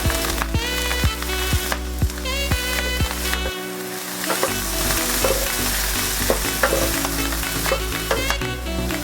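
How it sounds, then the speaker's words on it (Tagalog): Shrimp heads and shells fry in a hot pan with a steady, loud sizzle, broken by repeated clanks and scrapes of a utensil stirring them. "Lutuin na natin yung shell at yung head ng ating shrimp na sineparate natin kanina."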